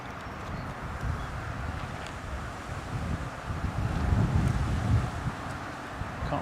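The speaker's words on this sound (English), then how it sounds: "but it is windy." Strong wind buffets a microphone at a fishing lake during an open match at Gold Valley Lakes, a steady low rumbling roar that swells louder in the middle before easing slightly.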